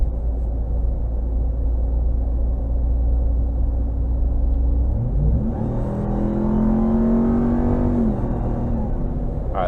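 A 2022 Ram TRX pickup truck's engine drones as a low, steady rumble, then rises in pitch and surges louder midway as the truck accelerates hard, heard from inside the cab.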